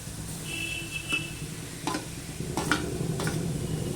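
Chopped tomato and onion fry over a low gas flame in a pan for a Bele fish curry, a soft continuous sizzle with a few scraping stirs of a utensil, close by and without speech.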